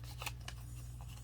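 Scissors snip through paper a few times in quick succession, close and faint, over a steady low hum.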